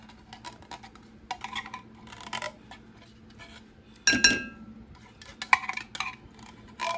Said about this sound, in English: Make sure you get all that soup out of that can